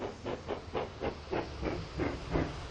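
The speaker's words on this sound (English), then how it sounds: "When that burns brightly and his steam puffs proudly, Henry is as fast and as strong as any engine." A big green steam engine with a coal tender puffs steam in a steady, rapid train of breathy chuffs, close and fairly loud, with no voices.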